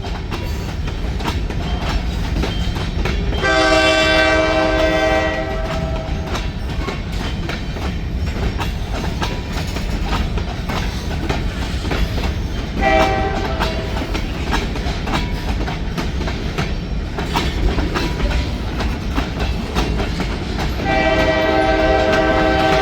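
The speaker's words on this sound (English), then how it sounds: "I don't think I want to sit here and wait for the whole train." A train rumbles past with constant clatter, sounding its loud horn in three long blasts spread across the passage.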